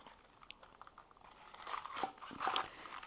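A knife slices through romaine lettuce hearts, cutting them small, with quiet crisp crunches and crinkles that grow slightly louder toward the end.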